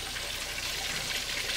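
Egg batter dripping off a slice of French toast bread into a dish of liquid, a steady, close watery trickle with a soft hiss and no voices.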